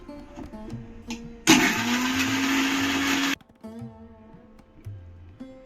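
A mixer grinder crushes pani puri masala ingredients with lemon juice, a loud steady motor whir that starts abruptly, runs for about two seconds and cuts off, with quiet kitchen sounds before and after.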